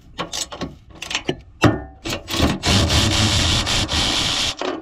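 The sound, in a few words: ratchet loosening 14 mm bolts on a Toyota Sienna cowl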